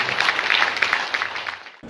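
A crowd claps for the mayor at a political gathering, a dense, loud burst of applause lasting under two seconds before cutting off abruptly.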